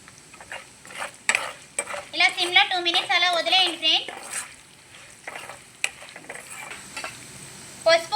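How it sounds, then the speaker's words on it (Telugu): Cashews and dried red chillies stirred in hot oil in a pan for lemon pulihora, with intermittent sizzling and clinks of a spoon against metal while someone talks over it. "ఇప్పుడు జీడిపప్పులు వేద్దాం ఒకసారి తిప్పుదాం ఫ్రెండ్స్ ఎండుమిర్చి వేసాను ఫ్రెండ్స్ ఒకసారి తిప్పుదాం"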